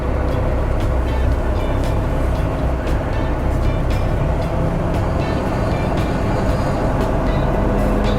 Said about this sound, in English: As my air builds up, I'm going to let it build up to governor cutoff, which is approximately 120 psi.